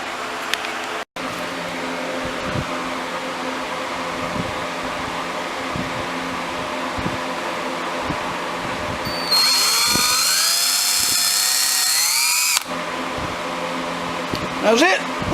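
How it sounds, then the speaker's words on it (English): A high, steady power-drill whine runs for about three seconds near the end, drilling holes into a kayak to install an anchor trolley, over a constant fan-like hum, with scattered knocks and faint talk earlier. "Alright, we're fixing to drill some holes."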